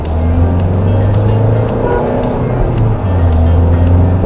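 Mahindra XUV700 SUV engine roaring hard under acceleration, a loud, close, continuous drone that rises in pitch, dips briefly and climbs again, with wind rush over it.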